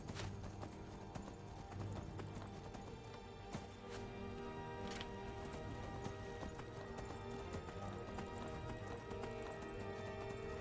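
A horse gallops in a video game, a fast rhythmic clip-clop of hooves running steadily and close throughout, joined by a whinny.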